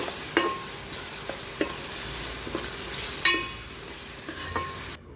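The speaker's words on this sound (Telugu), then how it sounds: "అల్లం వెల్లుల్లి పేస్ట్ పచ్చివాసన పోయే వరకు ఫ్రై చేసుకోవాలి" Ginger garlic paste with turmeric frying in a pan for a mango curry, a soft sizzle under repeated scraping and stirring strokes from a spoon, several sharp clinks against the pan, close and without speech.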